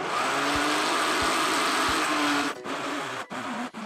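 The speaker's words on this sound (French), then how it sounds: "on va mixer le tout jusqu'à obtenir quelque chose de vraiment très liquide" A blender purees banana, courgette and chocolate batter, a loud steady motor whir running continuously for several seconds, then briefly dipping in pitch twice near the end as the load shifts.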